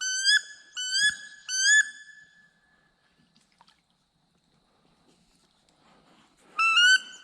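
Sharp, high whistles ring out to call wood ducks on public land: three quick rising-falling calls in a row, a long quiet gap with faint rustling, then one more whistle at the end.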